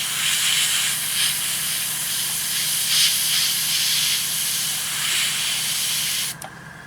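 Airbrush fed by a small compressor sprays green paint onto a 1/48 Eduard SE5a model kit, giving a continuous close airy hiss that swells slightly in pulses before cutting off near the end.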